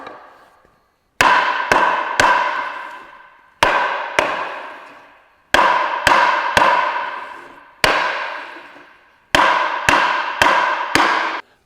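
Heavy mallet blows drive a timber frame joint together on sawhorses, landing in quick bursts of three to four sharp, loud wooden strikes, each ringing briefly before fading, with short pauses between bursts.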